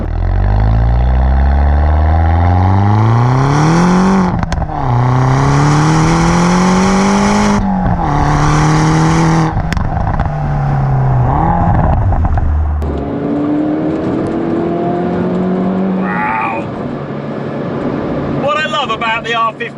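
A Lohen-tuned Mini GP3 of about 285 bhp drives along, its engine and valved exhaust giving a deep tone that rises and falls through gear changes. Someone talks over the loud, close drone inside the car.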